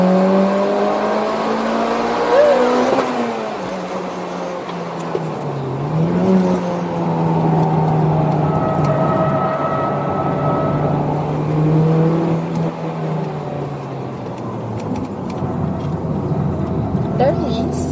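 Mitsubishi Evo X driving laps with its engine droning and rising and falling in pitch, a brief tyre skid in the mix, heard from inside the car with people talking over it throughout.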